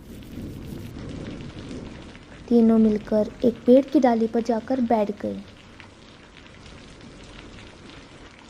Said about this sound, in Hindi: आधे रास्ते में आते ही आज फिर से बारिश शुरू हो गई।